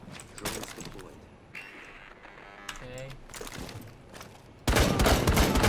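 Bursts of rapid gunfire crackle in Rainbow Six Siege, with people talking over it and a loud sustained volley of shots near the end.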